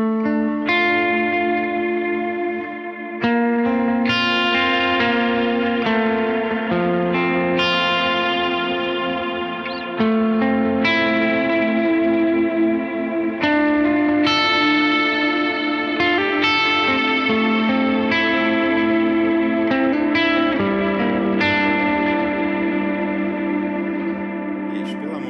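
Electric guitar played through a Line 6 HX multi-effects unit with its reverb engaged, sustained chords and picked notes ringing out with a washy, echoing tail, loud and continuous with brief pauses between phrases.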